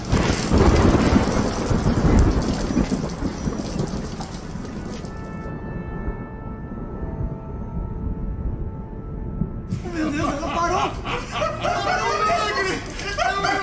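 Thunderstorm in a horror film: steady heavy rain with low rumbling thunder fills the scene, briefly thinning to a quieter hum midway before the downpour surges back loud and close.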